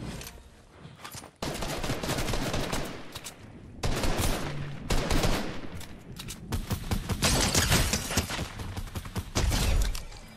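Gunfire in the Fortnite video game, with dense volleys of rapid shots and short gaps between them, loud and close.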